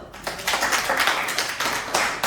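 A classroom of students claps together in a quick, dense burst, close and fairly loud, lasting a couple of seconds with no talk over it.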